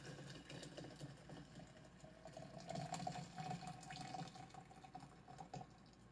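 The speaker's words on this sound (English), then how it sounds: "Then we just pour water in." Water pouring from a kettle into a pot of rooibos chocolate mint tea, a faint steady trickling stream with a slight rising tone as the vessel fills, no talking.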